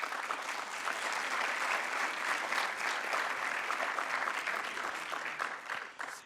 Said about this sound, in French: ils méritent vraiment vos applaudissements